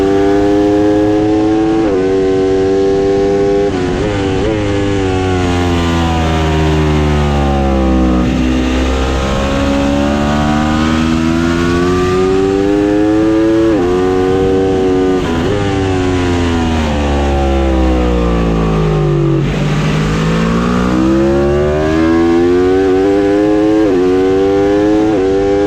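Aprilia RSV4 or Ducati Panigale V4 racing superbike screaming hard through the gears at the Barcelona circuit, loud and close, with repeated rising revs, sharp upshifts and brief drops into corners throughout, no talk.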